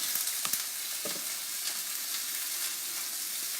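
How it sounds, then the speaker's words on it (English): Ground chicken sizzles and fries in a very hot stainless steel pan, a loud continuous hiss with a few stirring scrapes near the start. "we're going to add our ground chicken in"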